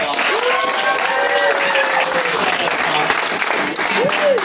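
A comedy-night audience at the Gypsy House claps for Carlos, who sets up the show, a loud continuous wash of applause with voices and cheering mixed in, close and full.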